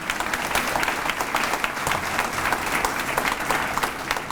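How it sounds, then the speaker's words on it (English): A university audience applauds as a new dean is introduced, a loud, even burst of many people clapping that holds steady for several seconds. "Give him a round of applause"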